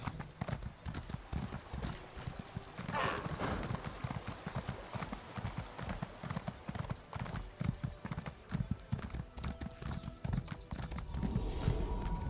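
Horse hooves clip-clop steadily in a quick riding rhythm in Elder Scrolls Online, close and clear, with faint game sounds and a brief snort or whinny in the mix.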